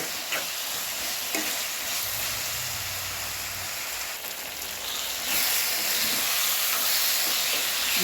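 Pepper chicken gravy fries with coriander leaves, a dense, hissing sizzle with stirring scrapes that grows a little louder toward the end.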